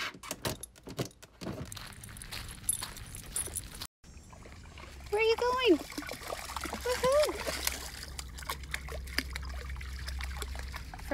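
Splashing in a lake, with broadband water splatters and sloshing near the microphone and a brief cut partway through; a voice calls out over the water noise.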